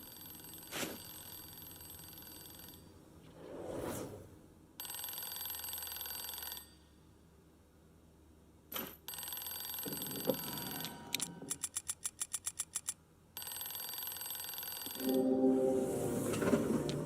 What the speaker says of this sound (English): I have no idea what could have triggered the alarm, but I have to disable it.